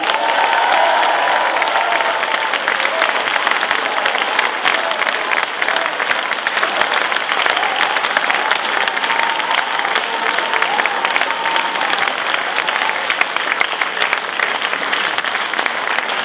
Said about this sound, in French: Je vous demande d'applaudir bien fort Laurent Grandguillaume.